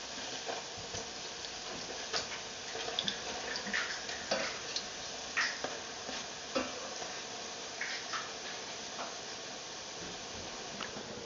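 Sticky rice coconut cakes (cascaron) fry in hot oil in a pan, a steady quiet sizzle with small scattered pops and crackles running throughout.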